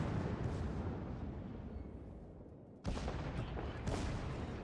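Battleship guns fire in World of Warships: a deep rumbling barrage gives way to a sharp heavy boom midway, followed by more rolling blasts, all fairly quiet and distant-sounding with no voices.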